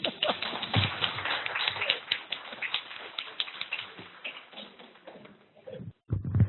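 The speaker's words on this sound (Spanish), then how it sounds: "darle gracias y un fuerte aplauso nuevamente a estos dos parejas" A crowd applauds two couples at a staged comedy show, dense steady clapping that carries on for several seconds before thinning out, breaking off briefly, then returning.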